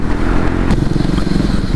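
A Triumph Speed 400 motorcycle rides off, its engine a steady loud rumble close by with a brief clattering scrape partway through.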